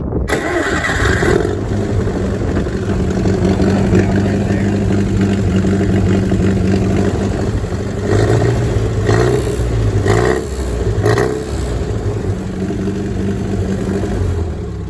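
A gas-powered farm tractor with four forward gears cranks and starts, then settles into a loud, steady mid-pitched idle with a few brief revs, close by and alone.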